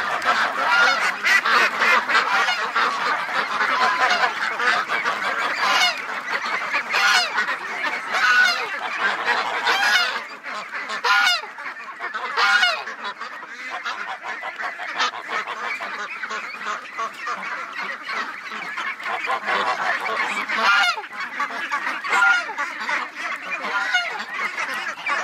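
Ducks honk and quack in a noisy, continuous chorus close by outdoors in the early morning, many overlapping calls with no pause.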